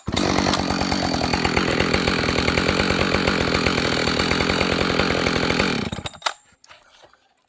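A Husqvarna 572xp chainsaw runs in deep snow, revving loud and close with a rapid, raspy engine buzz, then is cut off and dies away into brief mechanical clatter.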